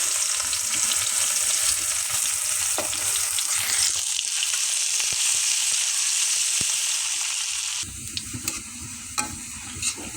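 Chopped onion and garlic fry in hot oil with a dense, loud, close sizzle that runs throughout, with a stirring clatter and sharper pops near the end as the mix is moved; no speech.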